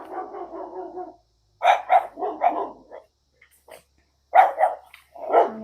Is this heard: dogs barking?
yes